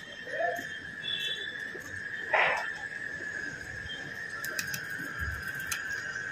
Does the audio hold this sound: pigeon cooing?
yes